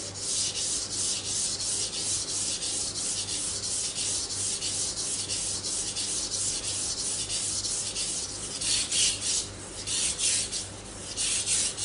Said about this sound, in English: So please listen the sound from the stone.